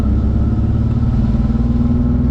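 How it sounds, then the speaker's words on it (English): A clapped-out Nissan Z car drives along, its engine droning loud and steady throughout with a constant low rumble and broadband road noise; no distinct rattling stands out from the engine roar. "Sounds like your whole suspension's gonna come off the car."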